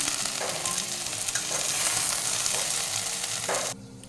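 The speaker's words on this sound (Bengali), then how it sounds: "এবার ভেন্ডিটা তুলে নেব এরকম সময় আর বেশি ভাজার দরকার নেই" Okra frying in oil in a pan for a spiced curd bhindi dish gives a steady close sizzle, broken by stirring scrapes about once a second, before it cuts off abruptly near the end.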